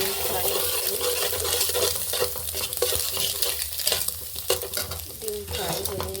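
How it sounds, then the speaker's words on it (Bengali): Egg frying in a pan while making chow mein gives a loud, steady sizzle with stirring scrapes and occasional clinks of a utensil against the pan, heard alone without talk. "এখানে ডিম ফ্রাই হচ্ছে"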